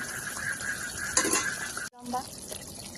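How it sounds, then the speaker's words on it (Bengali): A spoon stirs and scrapes through mustard spice paste frying in a pan for a fish curry, soft sizzling with close clinks and scraping against the metal, interrupted by a brief cut. "মশলাটা মোটামুটি কষা হচ্ছে"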